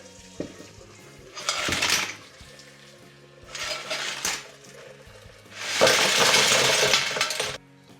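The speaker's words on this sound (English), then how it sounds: "So I'm gonna remove the water into the colander." Clam broth for seafood chowder pours from a pot through a colander into a bowl beneath, in three splashing, rushing bursts separated by brief pauses, close and fairly loud with light clinks of cookware.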